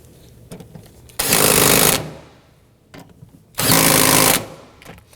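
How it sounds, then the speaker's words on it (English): Power tool driving bolts down on a fuel pump module of a 2003-2014 Volvo XC90 3.2L, two loud buzzing bursts of just under a second each separated by a pause with faint clicks. "let's go ahead and tighten these down"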